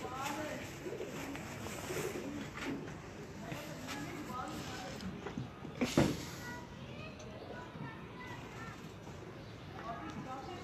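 Pigeons coo softly in a loft in Faisalabad, a low murmuring backdrop with scattered calls and rustling, while someone talks nearby throughout.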